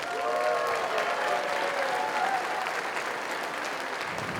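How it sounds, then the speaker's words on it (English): A crowd at a FIRST Robotics competition opening ceremony claps enthusiastically, a dense wash of applause that holds steady for several seconds before easing slightly. "Let's give him one more round of applause."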